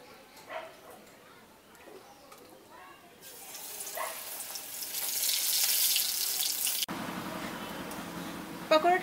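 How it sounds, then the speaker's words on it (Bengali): Batter-dipped coriander leaf pakoras drop into hot oil, setting off a bright sizzling hiss that swells for a few seconds and then cuts away, with quieter kitchen sounds around it. "এটাকে এখন এই ব্যাটারটার মধ্যে ভালো করে চুবিয়ে নেব, নিয়ে তেলের মধ্যে দিয়ে দেব।"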